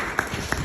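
An audience at a Hindi-language motivational gathering breaks into brief clapping, with a few sharp hand claps standing out over a steady crowd murmur.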